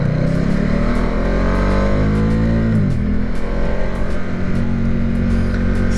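A Ducati Diavel cruiser motorcycle pulls away from a green light, its engine note rising loud and close through the revs, dipping briefly at a gear change near the three-second mark before climbing again under heavy wind noise.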